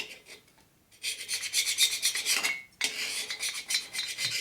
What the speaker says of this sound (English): Use my good carbide scraper